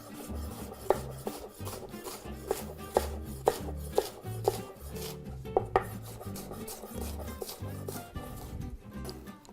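A knife cuts lengthwise through endives on a cutting board, giving a steady run of crisp chopping knocks, close and moderately loud, with no talk.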